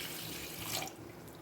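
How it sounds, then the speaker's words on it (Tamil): A tumbler of water poured into a cooking pot while making an oil-free greens stir-fry; a short, close, steady splashing pour that thins out toward the end. "ஒரு டம்ளர் தண்ணி ஊற்ற போகிறோம்"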